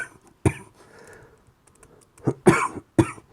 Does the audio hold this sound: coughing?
yes